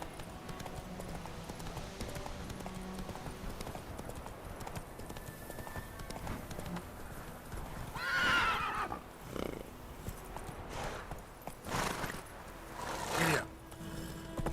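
Roach, a horse in the video game The Witcher 3, gallops with a steady clip-clop of hooves, broken by several loud, close whinnies and neighs toward the end.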